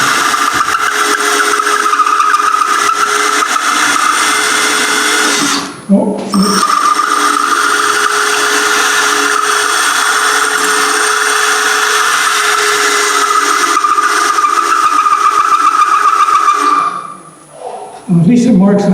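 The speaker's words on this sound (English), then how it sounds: "If you spin the drill, you can sometimes get it to cut." A spinning drill cuts the high spots on a turned wooden sphere, a loud continuous whirring grind that runs almost unbroken for nearly twenty seconds with two brief dips.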